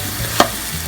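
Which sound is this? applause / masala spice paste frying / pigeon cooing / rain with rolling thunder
masala spice paste frying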